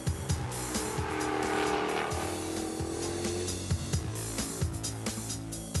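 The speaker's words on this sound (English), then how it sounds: "this Jaguar is more than capable, and it absolutely loves being driven hard" A Jaguar XKR-S driven hard roars at high revs, its engine note rising and holding loud and near, with brief tyre squeal and gear-change pauses punctuating the run.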